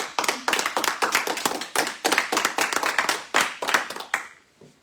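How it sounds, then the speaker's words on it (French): Close, crisp hand clapping for a prize winner at a student entrepreneurship awards ceremony, loud individual claps in an uneven rhythm from a small group, stopping abruptly near the end. "Vous pouvez l'applaudir"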